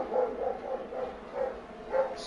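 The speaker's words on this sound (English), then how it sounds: "Excuse the dog in the background." A dog barks in the background during sim-racing commentary of a Formula-style league race at Imola, a few soft, distant barks spaced across the moment.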